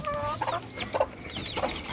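Laying hens cluck close by in short, repeated bursts over a steady low background hum, with no talking.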